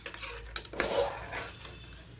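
A utensil scrapes and clinks against a metal pot of horse gram rice in short irregular strokes, close by, with no talking.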